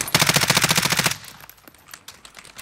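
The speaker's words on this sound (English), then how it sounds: "Someone shooting on the north." A rapid burst of automatic gunfire in the shooter game Warzone, about a second of loud, evenly spaced shots, followed by fainter scattered distant pops.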